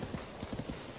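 Horse hooves clip-clop in a quick, even rhythm as a horse trots in the video game Zelda: Tears of the Kingdom, the steps close and moderately loud.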